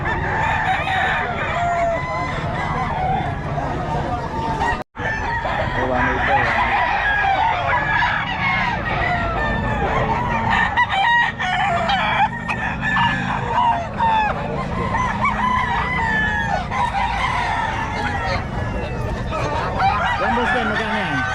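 Yellow Legged Hatch gamecock roosters crowing repeatedly and loudly up close, with overlapping crows and clucks from other fowl filling the whole stretch, a brief silent break near the start.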